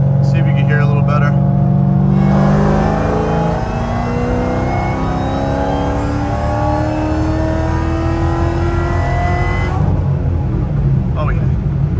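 A supercharged Ford Mustang GT500 engine pulls hard in fourth gear, its pitch rising steadily in a long, loud wail with supercharger whine on top, heard from inside the car, with a voice talking briefly at the start and end.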